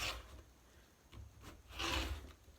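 Quilt fabric cut along a Stripology Squared ruler: soft, faint scraping strokes, quiet and close, with a longer pass near the end.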